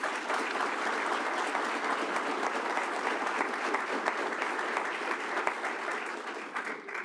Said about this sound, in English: So let's give a round of applause for these men and women.